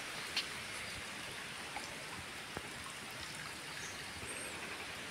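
Water runs over small mini waterfalls beside an old tree, a soft continuous trickling rush at low volume. A few faint clicks and ticks sound against it, with no talking.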